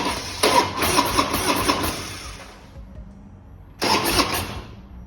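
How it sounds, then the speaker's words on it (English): A Harley-Davidson Road Glide with an M8 engine cranks over on a fresh battery with the fuel disconnected, giving two whirring cranking runs: a long one of about two seconds, a pause, then a shorter one, close and moderately loud. "the fuel isn't connected, but you do hear the crank"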